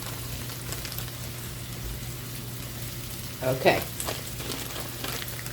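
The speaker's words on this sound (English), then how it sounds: "Get that fat back grease going." Fatback grease sizzles steadily on a Blackstone griddle with a constant close crackle, and a brief louder burst of spitting midway as a voice speaks briefly.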